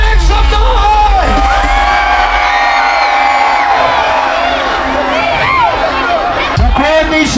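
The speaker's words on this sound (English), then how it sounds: "If you love sweet, make some noise." A loud crowd cheering, whooping and yelling together, a sustained roar of many voices with individual shouts rising above it.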